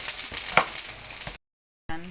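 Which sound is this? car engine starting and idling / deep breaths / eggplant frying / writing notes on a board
eggplant frying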